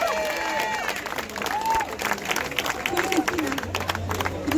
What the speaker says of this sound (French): On l'applaudit très fort, bien sûr.